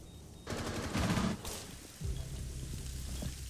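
Rapid automatic fire from a FAMAS rifle in a video game comes in loud dense bursts, first a short volley and then a longer sustained stream of shots close to the listener.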